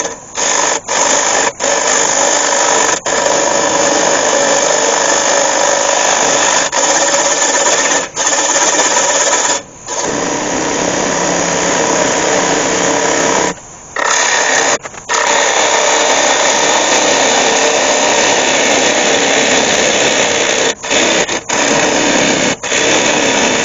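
A wood lathe runs steadily as the tenon is cut off the base of an ash bowl. The tool gives a continuous close whirring scrape, broken by a few short pauses.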